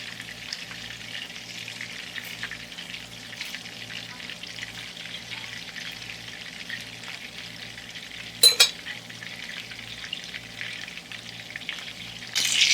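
Mutton gola kababs fry on a high flame with a steady, close sizzle and crackle, broken by a short metallic clatter near the end.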